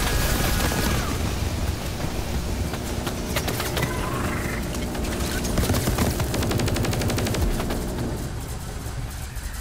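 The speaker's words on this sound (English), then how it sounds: "Oh no, he is shooting me." Rapid gunfire aimed at the player in the Call of Duty zombies map Forsaken, a dense, continuous burst of shots layered with game effects that carry on without a break for the whole stretch.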